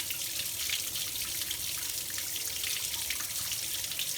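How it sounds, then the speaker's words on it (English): Water rushes steadily into the holder of a Diamond Master filter during servicing at home, a continuous close splashing fill with no voices over it. "I need to close this holder in order to fill this area with water"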